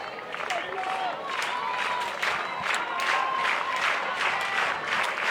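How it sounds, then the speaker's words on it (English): Stadium crowd at an NCAA college softball game applauding and cheering the pitcher, Harris of Auburn, with steady clapping sustained throughout and faint voices mixed in. "Crowd giving Harris a little support."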